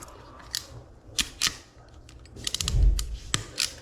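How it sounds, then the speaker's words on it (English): Sharp snips of a cutting tool trimming the wire ends of a shielded CAT6 Ethernet cable before fitting a shielded RJ45 plug, several crisp close clicks scattered over a few seconds with some handling noise. "you want to clip these ends one more time"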